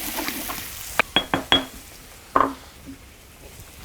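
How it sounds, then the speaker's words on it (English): Green masala paste is stirred in a wok, with a utensil striking the metal in a few sharp clinks and scrapes. Near, quiet pauses separate the clinks, and there is no talking. "And you just keep stirring to make sure it doesn't stick."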